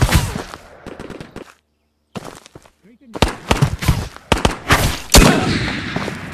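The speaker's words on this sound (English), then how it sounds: "I hear more shots." Gunfire in the VR shooter Ghost of Tabor, several sharp shots in quick bursts with short quiet gaps between them, loud and close, mixed with brief player chatter.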